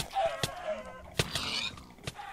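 Chickens in the Minecraft video game cluck in short, sharp bursts, a few quick calls spread across a couple of seconds, fairly close and alone without talk.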